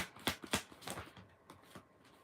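Tarot cards being shuffled by hand, a few quick riffling bursts close to the microphone, separated by short pauses and softer card rustles.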